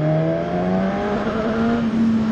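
A Suzuki Katana motorcycle with a GSX-R-derived engine holds a loud, close, steady high-rpm drone, its pitch creeping slightly upward as it revs, with no voices.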